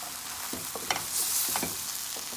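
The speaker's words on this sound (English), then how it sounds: "And while this is frying up" Eddoes and baigan (eggplant) frying in a pot for a Guyanese curry, a steady sizzle broken by a few clinks and scrapes of a spoon stirring.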